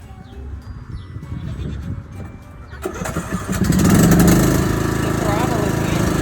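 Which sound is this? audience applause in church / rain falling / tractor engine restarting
tractor engine restarting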